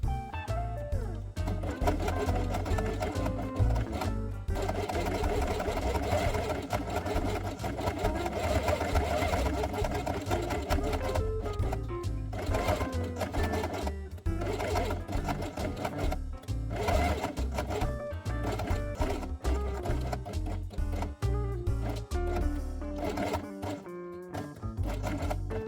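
A sewing machine stitches along the edge of a fabric piece with white thread for a quiet book page, its steady fast mechanical rattle running continuously and close, with brief pauses and slight speed changes.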